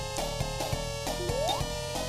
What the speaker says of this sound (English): what you're hearing here is actually the theme song for Super Sonic.